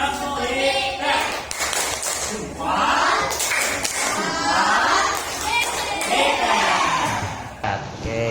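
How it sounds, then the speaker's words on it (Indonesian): An elementary school class gives a rhythmic clapped cheer, sharp group claps mixed with children's chanting voices in a lively classroom. "Kita beri tepuk hebat dulu"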